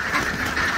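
Laying ducks at a duck farm in Mojokerto quack in a brief, dense, overlapping burst from a large flock, close and fairly loud.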